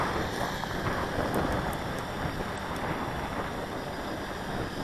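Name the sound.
wind blowing around a hovering XK Detect X380 drone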